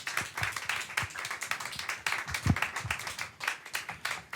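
Audience clapping for a singer at an intimate televised concert, a steady patter of many hands with a few sharper close claps, continuous through the stretch with some low thumps.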